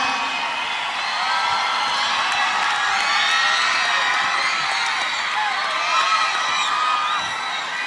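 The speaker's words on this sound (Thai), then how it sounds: "ขอเสียงปรบมือให้ครูน้ำหวานครับ" A crowd claps and cheers for teacher Namwan, a loud, dense wash of applause mixed with whoops and high excited shouts that carries on steadily throughout.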